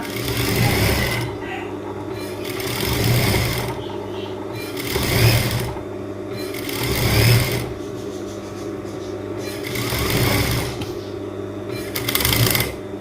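A sewing machine stitches elastic-waist trousers in loud, close bursts of rapid mechanical whirring, about six runs with short pauses between them.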